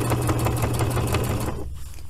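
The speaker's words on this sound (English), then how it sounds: "my whole sewing machine moves because it's so light" Lightweight home sewing machine stitching through a jacket pocket patch, a close steady rapid needle clatter for about a second and a half before stopping abruptly.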